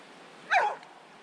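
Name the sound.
dog barking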